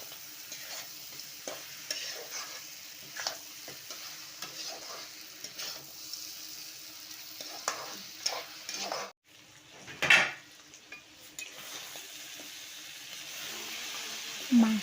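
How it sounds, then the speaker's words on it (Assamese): Mutton for a simple goat curry fries in a pan for a long time, sizzling steadily as a spoon stirs and scrapes with occasional metal clinks. The sound is close, moderately loud and mostly free of talk. "মাংসখিনি মই বহুত টাইম ভাজিছোঁ বাৰু দেই"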